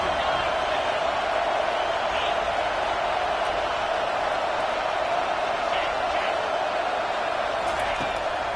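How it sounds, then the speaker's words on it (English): A college football stadium crowd at Penn State versus Auburn roars steadily on a big third down, a dense sustained wash of noise with no clear breaks. "Big 3rd down as the crowd gets behind this defense."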